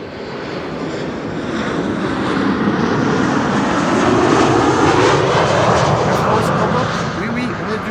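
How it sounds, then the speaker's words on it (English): GE90 engines on a Boeing 777 spool up during pushback at Amsterdam Schiphol, a broad, steady roar that swells louder toward the middle and then eases slightly. "I am hearing engines being started and they sound like GE90s"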